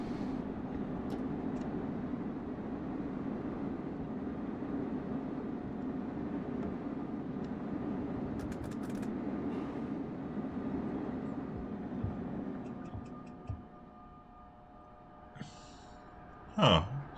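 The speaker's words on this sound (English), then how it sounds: "so many trains here" NJ Transit multi-level trains rumbling past in a video game, a steady broad roar that holds for most of the stretch, then fades toward the end, followed by a short high-pitched squeal.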